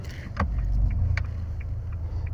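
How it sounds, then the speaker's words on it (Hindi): A Renault Triber car reverses down a slope with a low engine rumble that swells midway, along with a few sharp clicks and knocks from inside the cabin. No voices. "ये लगा दी मैंने रिवर्स गियर और ये गाड़ी को मैं लेके गया पीछे की तरफ।"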